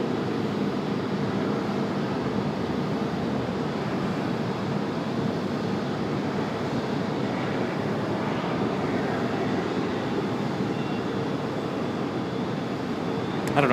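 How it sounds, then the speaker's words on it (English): A departing airliner rolls for takeoff on runway 23 right at Raleigh-Durham airport on a snowy day, its engines a steady, distant broadband roar that holds evenly throughout with no talking. "Fly heading 210, runway 23 right, clear for takeoff."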